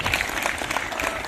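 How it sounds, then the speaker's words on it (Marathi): Students at a school morning assembly applaud steadily, a dense wash of many hands clapping together at moderate volume for a brief burst. "त्यांचं एकदा आपण सर्वजण टाळ्या वाजवून कौतुक करू"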